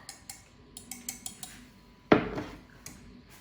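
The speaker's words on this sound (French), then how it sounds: "Moi, je prends avec une cuillère très propre" A clean spoon scoops from a dish while a hachis parmentier of green vegetables with béchamel is being assembled, giving a run of light clinks followed by one sharper scrape and clatter of metal on the dish, close, with no talk.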